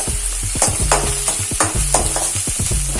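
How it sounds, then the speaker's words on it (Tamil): Sliced garlic and thinly cut onion fry in hot oil for a chicken noodle dish, a steady close sizzle broken by repeated scraping and clacking of a stirring spoon against the pan, with no voices. "பூண்டு நல்லா ஃப்ரை ஆனோன்னு ஒரு வெங்காயம் நீட்டாக நறுக்குனதை ஆட் பண்ணிக்கோங்க"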